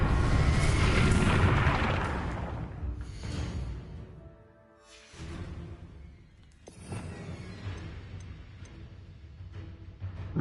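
Bombarda blasting spell in Hogwarts Legacy: a loud, broad boom that swells at the start and slowly decays, followed by further rumbling blasts and crackling debris, with no voices.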